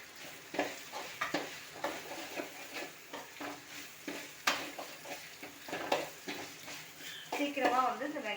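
Chopped capsicum and onions are sautéed in a pan for hotel-style egg fried rice, with a soft sizzle under repeated spatula scrapes and clinks against the pan in an uneven rhythm, fairly quiet and close.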